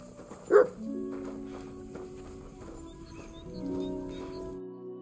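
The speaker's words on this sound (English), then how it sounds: "Who are you barking at, doggy?" In the Kingdom Come: Deliverance II video game, a dog gives a single short bark near the start over a low ambient bed, followed by quiet game sounds, soft footsteps and faint tones.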